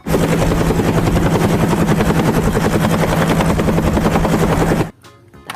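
A loud helicopter sound effect plays for a green toy helicopter, a rapid steady rotor chop for about five seconds before it cuts off abruptly, leaving quiet handling noise.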